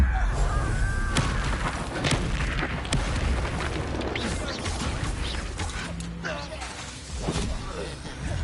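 Bombarda spell blasts in Hogwarts Legacy, a dense battle mix of repeated sharp booms and crashes over rumbling combat noise, with voices heard throughout.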